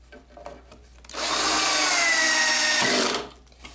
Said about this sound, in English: Now I can go ahead and screw on the shelf to hold the sewing machine.